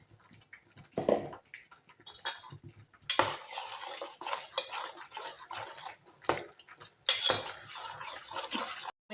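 Masala being stirred as it roasts in a pan, a utensil scraping and clinking against the metal in steady repeated strokes, close and fairly loud, with brief pauses between bursts of stirring.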